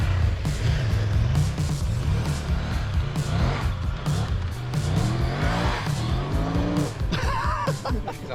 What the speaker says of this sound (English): Do a skid turn.